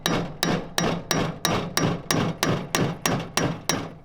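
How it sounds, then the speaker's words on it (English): Roughly a dozen loud, evenly spaced hammer blows strike a cold chisel against a bolt up close, each a sharp metal clank with a brief ringing tail, no voices. "you hammer it into the bolt until the chisel cut into the bolt."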